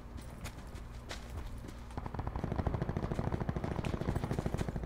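Gunfire in a shooter video game starts as scattered faint pops, then turns into a steady, rapid stream of shots in the second half, moderately loud.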